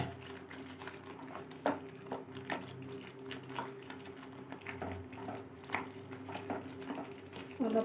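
Potatoes and cauliflower fry in a pan for a coconut fish curry, a faint sizzle under repeated clattering stirs and taps of the spatula, irregular and close, with no speech.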